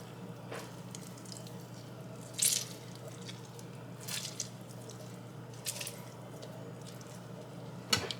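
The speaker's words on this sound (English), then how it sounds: "We're going to squeeze the lime juice over that." Faint wet squishes and drips come from a halved lime squeezed by hand over cucumber, a few soft bursts spaced apart against a quiet room hum.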